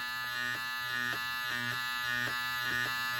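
Electric stitch remover buzzing along a seam to cut the bobbin thread, a continuous high motorized drone that pulses in regular bursts roughly every half second as it presses against the stitching.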